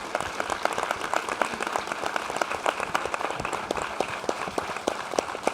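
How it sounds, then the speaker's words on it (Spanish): An audience at a tribute event applauds steadily, a dense run of many hands clapping that holds at an even, fairly loud level throughout with no voices over it. "qué mejor que un fuerte aplauso"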